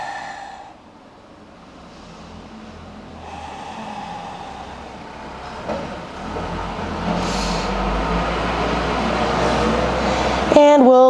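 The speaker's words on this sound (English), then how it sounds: "we'll wait for loud trucks to pass by" Heavy trucks rumble past outside during a yoga class, a steady low roar that builds over about eleven seconds and swells louder toward the end, with no talk over it.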